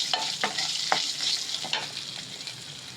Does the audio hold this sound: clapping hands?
no